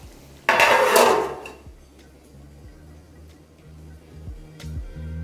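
A lid is set down on a pot of Bihari-style chicken masala, giving a brief loud metallic clatter followed by a low simmering hum and a few faint ticks, close by with no talking.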